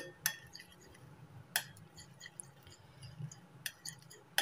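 A spoon clinks against a bowl while half a spoon of coffee powder is stirred in, with a few sharp metallic taps spaced about a second apart over quieter scraping.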